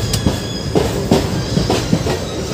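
A train rolls along the railway through Haryana, with a steady loud rumble heard from on board and a regular clickety-clack of wheels over rail joints repeating about every half second.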